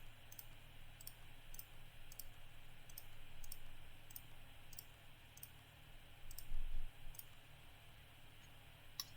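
Mouse clicks sound while playing the strategy game Europa Universalis IV on a computer, quiet sharp taps at a fairly even rhythm of about one per second over a low steady hum.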